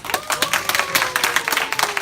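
Audience applause breaks out at a church youth winter retreat award gathering, a dense run of quick claps for about two seconds, fairly close and steady, with a faint tone running underneath.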